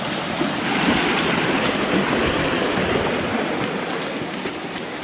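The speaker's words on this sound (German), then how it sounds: "Aber krass, wie hier überall in Strömen das Wasser runterläuft." Water pours in streams down rocks along the Majaceite river hiking trail in Andalusia, a dense, steady rushing wash, close and fairly loud throughout, with no voices.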